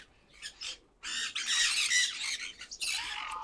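Pineapple conure parrots at a bird farm squawk in harsh, shrill bursts, several overlapping calls close by, with short pauses between them.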